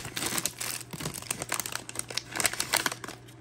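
Plastic wrapping on a Laura toy blind box crinkles and crackles as it is torn open, with a busy run of close, rustling handling noises and no talking.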